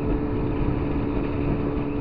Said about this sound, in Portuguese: Luiz estreando esse novo motor